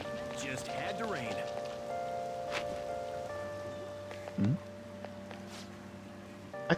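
Rain patters steadily over a gentle looping melody in the video game Persona 5 Royal, with a brief thump partway through.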